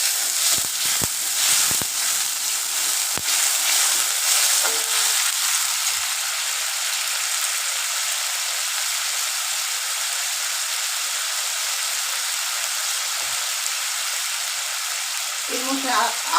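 Tomatoes with a splash of water sizzle steadily in a pan for vegetarian ghugni, a continuous close hiss with a few clicks early on and a brief voice near the end.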